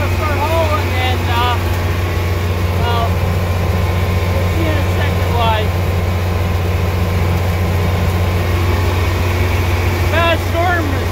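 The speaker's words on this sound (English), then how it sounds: "sorry about the loud tractor. It's an old 4010 right now" An old John Deere 4010 tractor drives along with a loud, steady, low engine drone that fills the whole stretch. Faint chirping sounds come and go above it.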